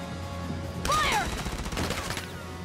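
Squad rifle and machine-gun fire in the Valkyria Chronicles video game, a sharp loud burst with whizzing tones, rattling and echoing for about a second before tailing off over game background music.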